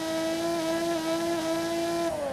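A Toyota V6 engine in a Lotus Emira, in the video game Forza Horizon 5, holds a high, steady whining rev near its 7,000–8,000 redline, then the pitch dips slightly near the end, loud and alone.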